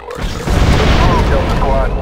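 Grenade blast in the shooter game Star Wars Republic Commando, a loud rumbling boom swelling after a short lead-in and rolling on for over a second, with voices and game noise mixed in.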